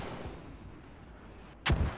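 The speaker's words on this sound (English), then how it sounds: "And mortars being pretty accurate here." Mortar fire in a war video game, with one sharp, loud impact near the end that stands out over a low battlefield rumble.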